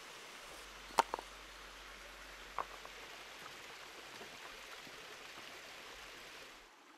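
A river pours over a waterfall onto large, flat, angular slate on the River Barrule, a steady rushing wash of water heard from close by. A couple of sharp clicks sound near the start, and there is no talk.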